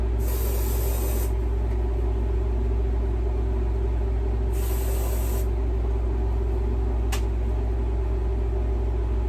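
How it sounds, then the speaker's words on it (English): Deodorant aerosol sprayed in two long hissing bursts about a second each, a pause between them, then a brief short puff, close up over a steady low background hum. "And then I'll put on some deodorant."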